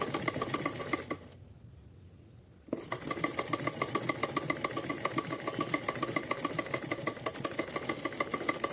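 A sewing machine runs a straight stitch through cotton fabric for a small Kanha ji outfit, whirring in a fast, even rhythm, stopping briefly near the start and then resuming steadily.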